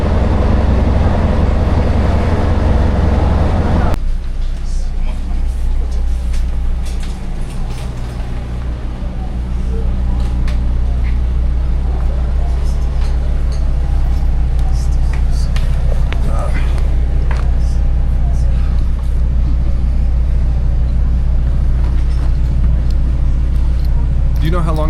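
Inside a moving train, a heavy low rumble and steady roll with occasional rattles and clunks, loud and continuous, with people talking over it.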